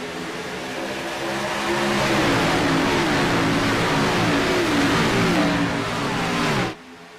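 Race cars pulling away at a green flag restart at Daytona in a sim racing game, a pack of engines rising together into a loud sustained roar of revving that cuts off sharply near the end.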